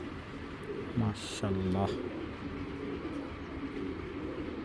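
Pigeon cooing close by, two short low coos around the middle, over a faint background hum while someone talks.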